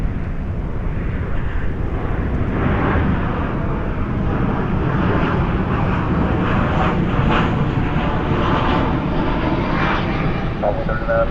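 A jet airliner at Dallas/Fort Worth airport at night produces a loud, continuous engine roar and rushing noise that fills the whole stretch, with faint talk mixed beneath it.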